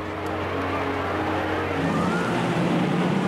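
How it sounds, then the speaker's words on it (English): Racing cars roar past on the Isle of Man road course during a pre-war Grand Prix era race, a steady loud engine drone with rising pitch as one car passes, heard on an old film soundtrack. "The Isle of Man for a day is given over to the roar of high-powered cars."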